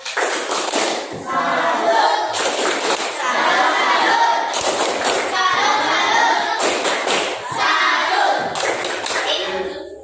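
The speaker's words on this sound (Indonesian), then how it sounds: "Tetapi sebelum slide game-nya kita tepuk salut dulu. Tepuk salut." A school class performs a rhythmic clapping cheer together, bursts of group claps and chanting voices repeating in a steady pattern, loud and close in a classroom.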